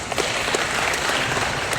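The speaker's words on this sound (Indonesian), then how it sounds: "Tepuk tangan beliau." Audience applauding at a police gathering on the role of policewomen, steady even clapping heard close and fairly loud, without talking.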